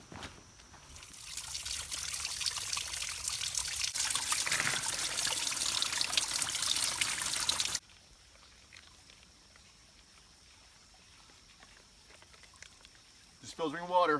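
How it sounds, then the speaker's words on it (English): Water trickling and dribbling through a backpacking water filter on a trail, a steady thin stream for several seconds that then cuts off, leaving quiet outdoor ambience with a brief sound at the end. "Just filtering water."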